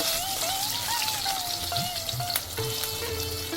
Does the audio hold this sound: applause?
no